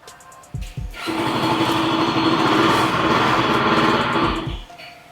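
A small motorcycle engine kicks over, revs up into a high, buzzing whine for a few seconds close by, then cuts back down.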